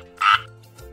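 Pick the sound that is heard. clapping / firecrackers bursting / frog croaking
frog croaking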